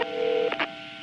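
A phone keypad punching in 911: a steady dial tone cuts off, then two short touch-tone beeps follow in quick succession over a faint background hiss.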